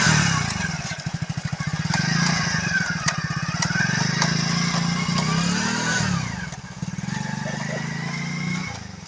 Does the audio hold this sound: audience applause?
no